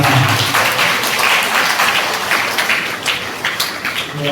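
Congregation applause at a Christmas midnight Mass at St Joseph's Catholic Church, a loud, dense patter of clapping hands sustained throughout and fading slightly toward the end.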